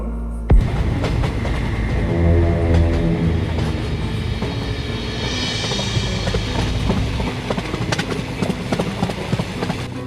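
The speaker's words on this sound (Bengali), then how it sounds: "আমি বাপের জন্মে প্রথম দেখলাম গো যে কোনো লোকাল ট্রেন এত জোরে জোরে চলতে পারে" A local train runs fast at night, giving a loud, continuous rumble with rapid rhythmic clicking of the wheels on the rails, close and steady throughout.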